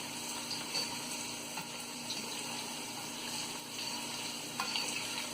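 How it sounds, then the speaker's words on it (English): Carrots stirred into tandoori rice frying in a pan, a continuous close sizzle with occasional scraping stirs, steady and moderately loud with no talking. "Now I'm gonna add the carrots to it. Give it a mix."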